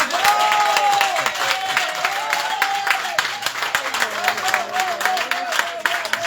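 Audience applause at an evening community gathering, a dense patter of clapping hands running throughout under overlapping voices.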